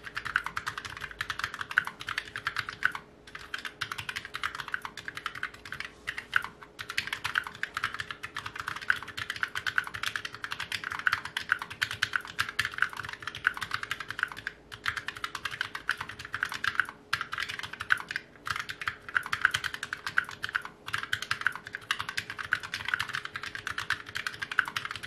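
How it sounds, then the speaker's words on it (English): Close typing on a FNATIC STREAK65 compact keyboard with speed low-profile switches, a steady fast stream of light clicky keystrokes with brief pauses, alone throughout. "So it's time to listen to FNATIC speed low profile switches"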